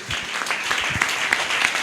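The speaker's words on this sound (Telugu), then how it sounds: "ఒకసారి చప్పట్లు కొట్టండి" A church congregation during a sermon claps hands in a lively, uneven burst of applause, many hands close together, sustained throughout without speech.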